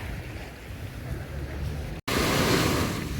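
Sea surf at the city beach in Sarandë, Albania: a steady near wash of breaking waves mixed with wind buffeting the microphone, with a brief dropout partway through.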